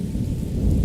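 Steady rain with rumbling thunder in the video game Morrowind, a continuous loud low roar that swells slightly toward the end, with no voices.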